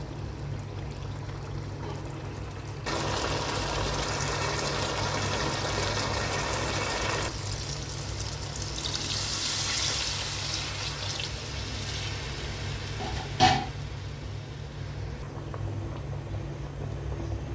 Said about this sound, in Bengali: আমি অল্প পরিমাণে পানি দিয়েছি